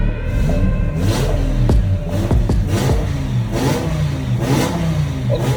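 A 2008 BMW M6 engine revs repeatedly through a valved titanium exhaust, with rising and falling bursts of throaty roar close to the listener.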